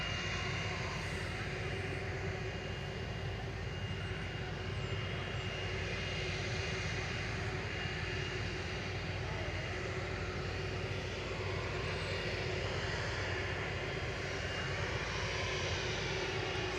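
An Airbus A380 departing Manchester Airport, a continuous low, even engine rumble with a faint steady whine, distant and unchanging throughout.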